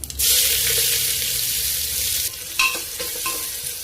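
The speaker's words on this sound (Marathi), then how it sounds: "कांदा असा छान परतून घ्यायचा आहे" Onions sauté in hot oil inside a pressure cooker, giving a loud, continuous sizzle that softens partway through and is broken by a few stirring scrapes and clinks.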